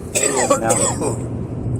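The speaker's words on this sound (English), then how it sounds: "Coughing. Coughing." Two or three harsh coughs come close together, with a throat-clearing quality, followed by a low background murmur.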